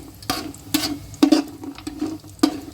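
Dried turmeric roots dry-roast in a pan, giving off a handful of sharp, separate pops and crackles at irregular intervals over a quiet background.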